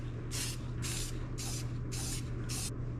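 A second coat of spray paint going onto masked lettering in five steady bursts of loud hissing, each roughly half a second long with short pauses between, over a low constant hum.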